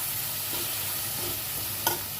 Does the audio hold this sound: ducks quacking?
no